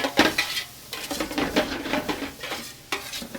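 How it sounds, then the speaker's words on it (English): Curry powder roasts with onions and mustard seeds in hot oil, a soft sizzle broken by frequent scraping and stirring in the pan, with no talk. "It's really important to roast your curry powder."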